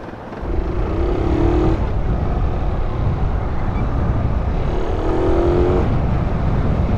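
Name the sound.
Suzuki Raider 150 motorcycle engine running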